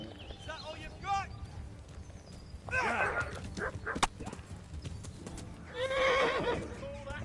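Horse in the video game Kingdom Come: Deliverance neighing and whinnying in several loud bursts between hoof clatter, with someone talking briefly over it.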